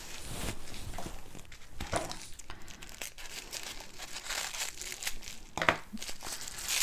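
Pink tissue paper crinkles and rustles steadily up close as it is unwrapped from a small haul package, with a few sharper crackles near the end.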